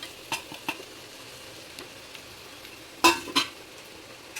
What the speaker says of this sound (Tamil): சேர்த்து நல்லா கிளறி கொடுத்துடலாம்